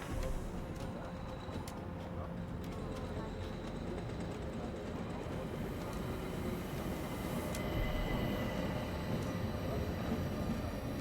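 A passenger train in a Murder on the Orient Express video game rumbles with a steady, continuous low roar of rolling carriages, heard close and constant throughout, with faint clanks and a brief hiss near the end.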